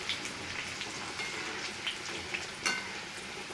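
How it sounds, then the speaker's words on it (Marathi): Chilies and curry leaves frying in hot oil, a steady close crackling sizzle with small pops scattered throughout and one sharper spatter near the end. "मिरची आणि कडीपत्ता छान खरपूस होऊ द्यायचा आहे"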